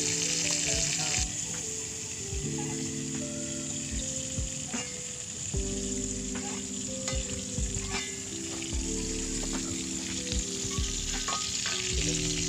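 Jellyfish stir-fried in hot oil with sambal in an outdoor hut kitchen, a steady loud sizzle with scraping stirs of a spatula over the pan, close up and continuous, no voices.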